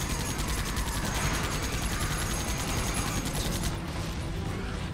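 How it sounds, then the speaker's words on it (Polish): Demon fireball explosions in the Dreamkiller video game, using Painkiller sound effects, heard as a dense, continuous crackling barrage of rapid bursts and mechanical rattles, loud and unbroken for several seconds, with no speech. "kule ognia, które demon nas rzuca, mają dźwięki z Spankillera. Eksplozji."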